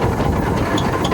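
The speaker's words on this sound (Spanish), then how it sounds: "Muy lentamente, el pesado tractor de 12 toneladas de peso va avanzando por el asfalto" A century-old, 12-ton steam traction engine creeps slowly along asphalt, giving a loud, continuous low rumble and mechanical vibration with faint clanks on top.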